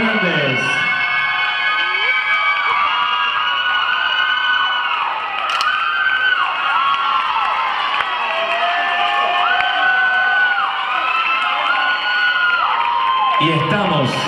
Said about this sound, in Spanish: Deseamos con un fuerte aplauso, competidor 409